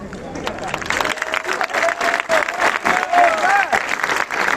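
Audience applause at a football club's 90th anniversary celebration, uneven clapping mixed with crowd murmur and a voice talking over it, with some whistles rising near the end.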